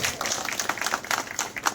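An audience claps at a carpenters' conference, a dense patter of many hands close by that keeps a steady, lively level throughout the short stretch.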